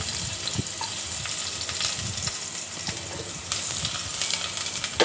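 Onion and dried red chillies fry in hot oil in a pan, producing a steady, close, loud sizzle with small crackles and a few light knocks throughout, and no talking.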